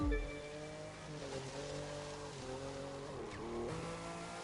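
A Lamborghini Murcielago is driven in The Crew 2, its engine a steady loud drone with shifting pitch as it revs and drifts, alone without talk.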